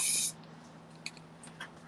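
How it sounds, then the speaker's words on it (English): A short hiss of spray puts colour onto a concrete sculpture, heard as a brief burst at the start, then faint small taps and quiet room tone. "let's just spray it on"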